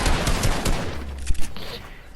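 Rapid bursts of gunfire from the video game Fortnite crackle in a dense volley, followed by a couple of sharper, isolated shots.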